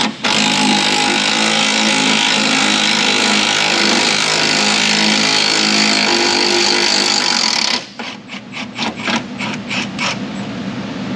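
Milwaukee impact wrench removing a strut bolt on a Honda: a loud, continuous hammering whir for about eight seconds, then a quick series of short rattling bursts as the bolt comes free.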